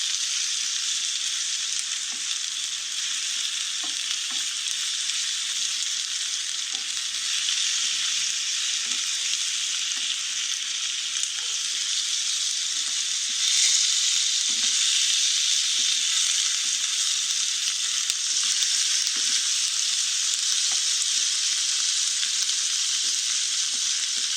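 Minced meat frying in a pan for a keema roll, a loud bright steady sizzle that runs the whole way through, with scattered small scraping and stirring ticks, close and without speech.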